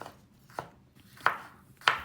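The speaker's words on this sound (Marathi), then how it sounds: "मिरच्या पण आपल्याला बारीक कट करून घ्यायच्या आहेत" A knife chopping green chillies, garlic and ginger on a board, four separate sharp chops spaced roughly half a second apart, close and clear with quiet pauses between.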